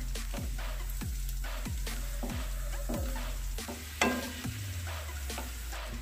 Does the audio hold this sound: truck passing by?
no